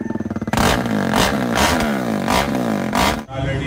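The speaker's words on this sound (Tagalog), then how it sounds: "Di ba yung tunog pareho lang? Full open pipe pa yan." A big bike motorcycle with a full open exhaust pipe, a loud throaty engine revving in several strong bursts close by after a brief idle.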